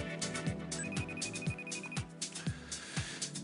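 Electronic phone ringtone repeating in a regular looping pattern, fairly loud and alone with no talk over it.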